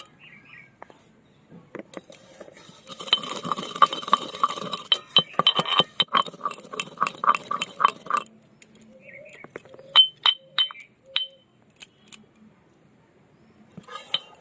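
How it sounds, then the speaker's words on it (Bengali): Roasted panch phoron spices for a singara chutney are ground by hand, giving a quick run of hard clinking and rattling taps in the middle, with scattered lighter clicks and faint bird calls around them. "চাটনির 5 ফোড়ন ভাজাটা গুঁড়ো করে নেবো।"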